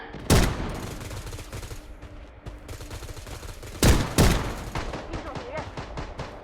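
Blood Strike video game gunfire crackles in short, sharp bursts, with loud shots near the start and a double burst later over a busy, rattling game background.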